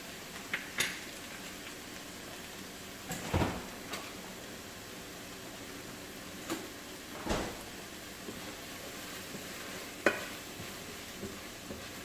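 Butter sizzling in a pot for Jamaican-style seasoned rice, a soft, steady fry under a few scattered clunks and scrapes of a utensil against the pot, heard close with no talking.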